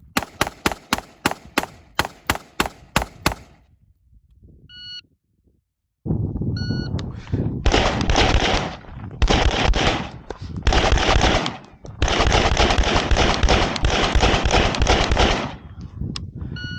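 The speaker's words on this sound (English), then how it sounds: "how do we do when hitting our target with our rifle that does not have a sighting system on it at all?" An AR-15 rifle with no sights fires at a target: a quick string of about a dozen sharp, loud shots at the start, then a pause, then long stretches of loud noise that stop and start.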